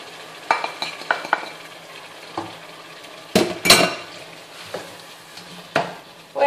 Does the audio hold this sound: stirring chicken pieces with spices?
yes